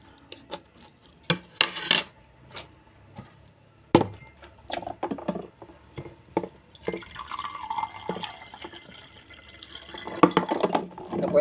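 Cold water poured into a drinking glass at a home meal, heard as a short run of pouring and trickling with clinks and scattered drips, mixed with nearby talk and kitchen clatter.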